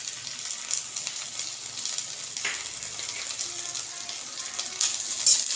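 Chopped onion with ginger-garlic paste sizzles in a pan while being stirred, a moderate, steady frying hiss with faint scrapes and small clinks near the end.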